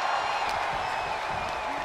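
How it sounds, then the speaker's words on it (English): Toronto crowd at an ECW Anarchy Rulz tag team wrestling match roars loud and sustained, with cheering and whoops under a commentator's voice. "I don't think I've heard a Toronto crowd this loud"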